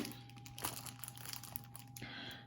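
A plastic parcel bag crinkles and rustles close by while small cross-stitch embroidery kits from China are unboxed. The handling is steady, with a few sharper crackles against a faint background hum.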